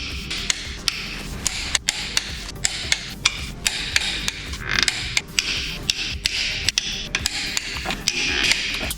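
Metal taps and clicking from a torque wrench tightening engine head bolts in two passes to 30 and then 60 newton meters, during a Toyota Run X engine rebuild. The ratchet makes repeated sharp close clicks and taps, heard alone.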